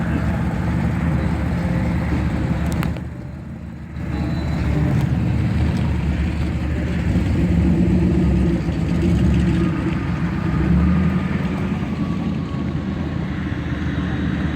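Shelby Cobra cars drive past at an outdoor car show, a continuous loud engine rumble that dips for a moment and then surges back as more cars roll by, with faint crowd voices in the background.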